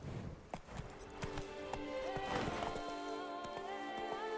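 Horse hooves clip-clopping in The Witcher 3, a rapid rhythmic patter of hoofbeats that starts close and clear, then fades into a softer, steady ambient bed.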